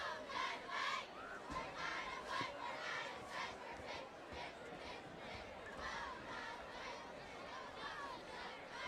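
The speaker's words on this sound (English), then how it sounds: "That cheer never gets old." Cheerleaders at a varsity high school football game against Taunton chant a rhythmic cheer that carries steadily for several seconds, with crowd voices blended underneath.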